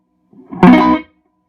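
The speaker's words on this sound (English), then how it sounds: "A little bleed into the reverb." A 1965 Fender Deluxe Reverb guitar amp lets its signal bleed into the reverb, giving one short, loud, distorted, reverberant swell that builds for a moment and then cuts off into silence.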